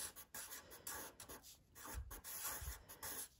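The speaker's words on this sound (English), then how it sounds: "I think I'll just write my name real quick." Quiet scratchy scribbling of a pen across paper, in short irregular strokes with brief pauses, close up and with no one speaking.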